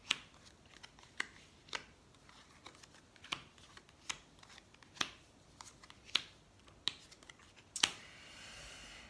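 Tarot cards are handled and shuffled for a nine-card spread, a string of sharp, quiet snaps and flicks coming every half second or so, close by.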